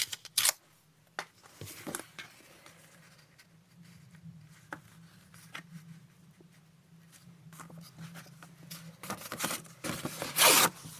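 Material torn by hand for a journal tag cluster, a few short, sharp ripping bursts near the start and a louder, longer tear toward the end, over a low steady hum with scattered handling noises.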